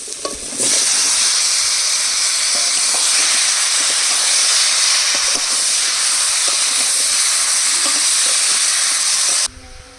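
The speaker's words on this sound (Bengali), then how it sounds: "মশলাগুলো কষিয়ে নিয়েছি এবার কেটে রাখা ওলকপি আলু দিয়ে দেবো" Chopped kohlrabi and potato drop into hot spices frying in a pan and a loud, sustained sizzle and hiss follows, with a few light stirring knocks. The sizzle runs steady almost to the end, then cuts off abruptly.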